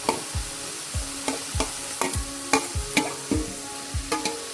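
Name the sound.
stirring chopped tomato into sautéed onion for beef ularthu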